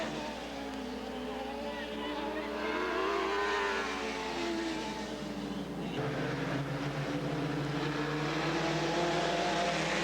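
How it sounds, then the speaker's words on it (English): Open-competition 4-cylinder race cars in a heat race at Southern Oregon Speedway, a loud pack of engines droning and surging on the track with a loudspeaker announcer talking over it. "Green flag is out. 10 laps for the open competition 4-cylinder heat races."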